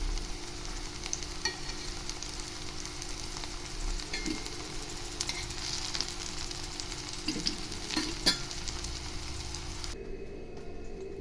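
Food sizzles steadily in a hot pan with occasional stirring scrapes, then the frying sound cuts off abruptly near the end.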